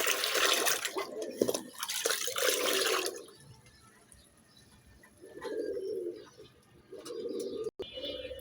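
Rain falls and drips outdoors near a flock of pigeons, a steady broadband hiss for the first few seconds that thins out, while pigeons coo intermittently and close by.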